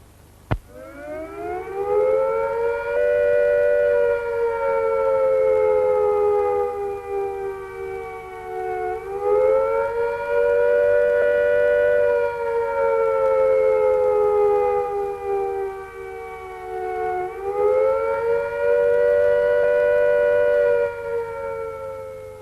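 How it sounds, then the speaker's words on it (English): A civil defense siren sounds the attack warning signal, wailing loud and steady, its tone rising then sustaining in long waves with slight dips, warbling through three cycles. "If attack is imminent, you will hear the attack sound like this."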